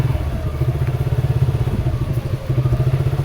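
Motorcycle riding a muddy, rain-damaged road after heavy rain and storm, its engine close and loud with a steady throbbing pulse throughout, plus occasional clatter from the rough surface.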